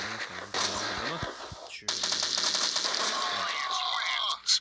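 Gunfire in an online shooter game: rapid machine-gun bursts and crackling shots, mid-distance and fairly quiet, broken by a short gap and followed by a longer sustained burst.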